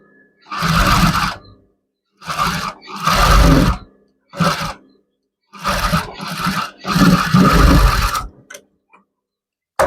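A sewing machine stitching blouse piping runs in several loud, close bursts of rapid mechanical whirring, some short and some longer, separated by brief silences.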